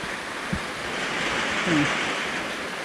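Steady hiss of rain falling, a broad even wash of sound with a couple of faint knocks and a brief muffled voice-like sound partway through.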